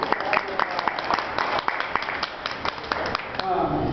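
Parents give scattered applause at a Young Marines recruit graduation ceremony, with crisp nearby handclaps over a murmuring crowd and voices talking underneath.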